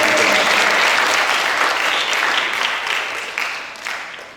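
Hearty applause fills a hall at an Isra Mi'raj gathering, many people clapping together in a thick, continuous roar that stays loud before gradually thinning out over a few seconds.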